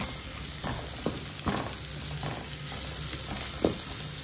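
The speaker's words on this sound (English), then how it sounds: "in the same pan, add onions, ginger, garlic, stir fry them until they're soft and golden brown in color" Onions, ginger and garlic fry in a pan with a dense, close sizzle, and a few distinct spatula scrapes punctuate the steady crackle.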